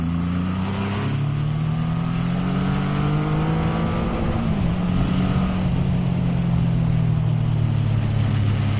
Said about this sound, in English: this motorcycle essentially does about 105 kilometers an hour in first gear before you need to select second